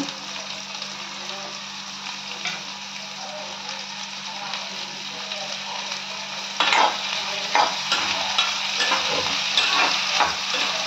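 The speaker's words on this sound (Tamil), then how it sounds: "நான் பெரிய வெங்காயம் எடுத்துருக்கேன். இது நல்லா வதங்கட்டும்." Large onions with curry leaves sautéing in a pan for mint chicken, a steady close sizzle with scraping stir strokes growing louder and more frequent toward the end, no talking.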